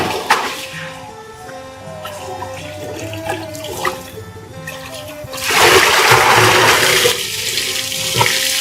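Water splashes and pours while ingredients are rinsed in clean water during traditional Lanna rice liquor making, with a loud gushing surge midway over steady running-water and dripping sounds.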